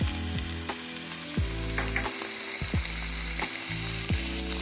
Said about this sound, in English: We're going to go ahead and mix it in until it's well combined.